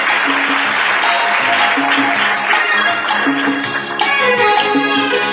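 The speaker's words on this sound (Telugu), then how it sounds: "ఒక్కసారి చప్పట్లు కొట్టండి ఆ వాక్యానికి" An audience claps together in sustained, dense applause that holds steady for several seconds, with a faint murmur of voices underneath.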